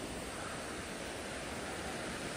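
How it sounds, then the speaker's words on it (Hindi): Floodwater rushes along a road and into a drain after rain, a steady, dense broadband roar of flowing water heard close and unbroken, with no voices over it. "देखे पूरे रास्ते से पानी आ रहा है,"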